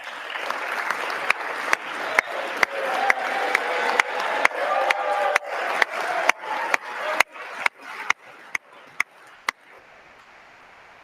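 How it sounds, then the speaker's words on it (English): Light, scattered applause in a legislative chamber during an electoral vote count, a crowd clapping steadily at moderate volume with a few louder individual claps, then thinning out to sparse isolated claps near the end. "Nobody's clapping hard."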